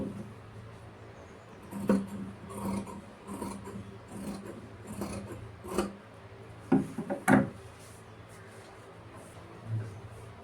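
Scissors snip through blouse fabric on a tailor's table, a scattering of quiet, irregular cuts and rustles with a few sharper snaps near the middle.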